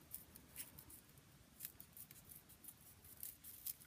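Scissors snipping through folded paper while cutting out a snowflake design, a quiet, close run of small crisp clips and rustles repeating irregularly, with no talking.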